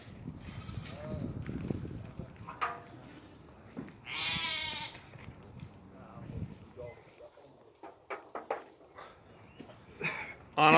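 Goats and sheep with their young bleat intermittently in a farm pen, several calls near and far, including one loud close bleat, while people talk over and between the animal calls.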